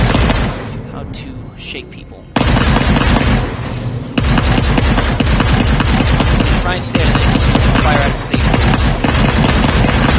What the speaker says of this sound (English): That hammerhead's firing on us.